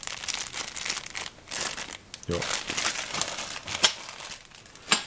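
Plastic bags holding screws from a boxed NZXT Phantom big tower PC case crinkle and rustle in bursts, close and fairly loud, with a few sharper crackles and a brief word spoken partway through.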